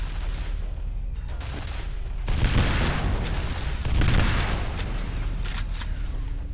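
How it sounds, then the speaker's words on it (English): Bursts of rapid gunfire in the Xbox 360 version of the shooter game F.E.A.R., loud and close, with two heavier swells of shooting and no talking. "Are you gonna stop shooting?"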